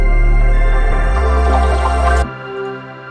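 A dense, sustained synth pad with a buzzy, robotic vocoded texture drones loudly, then cuts off abruptly leaving a faint low tail.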